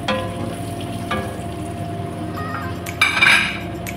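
Fish being mixed with turmeric, macboos masala, chili powder and coriander, soft clinks and scrapes of utensil against a bowl or pan, with a brighter clatter near the end.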